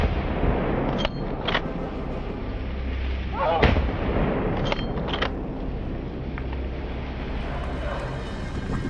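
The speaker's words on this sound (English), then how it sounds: "When they were just 40 meters away, I pulled the trigger. The first shot dropped the lead boar." Rifle shots from a hunt of wild boars in an open field, several sharp cracks spaced a second or so apart over a constant droning background, the loudest near the middle.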